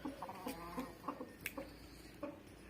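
A Brazilian rooster gives a run of short, soft clucks in a few quick bursts, fairly faint against a light background hiss.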